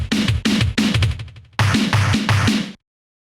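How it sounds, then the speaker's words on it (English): A music demo of finger drums plays a kick-and-snare pattern with echo on the kick, giving a punchy, loud, close beat in an even rhythm that stops abruptly into silence. "Finger drums."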